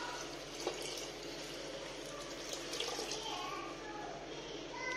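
Liquid is poured into a pot of strawberry sauce cooking on the stove, a soft, steady watery pour and sizzle that runs throughout at low level, with faint voices in the background.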